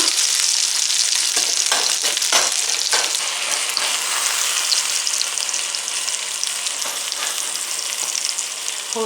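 Food sizzling steadily in a skillet, a continuous close hiss and crackle with small pops and light stirring, no voices.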